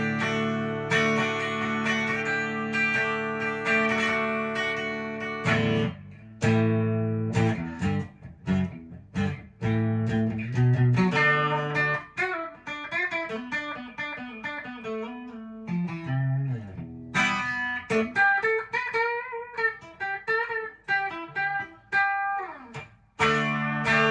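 Harley Benton DC-60 Junior electric guitar played through an amp with a touch of reverb: a run of picked notes and ringing chords, some sustained and some choppy, with short pauses between phrases and no voices.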